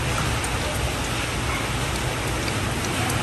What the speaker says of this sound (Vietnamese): ngắm trời mưa đây còn gì bằng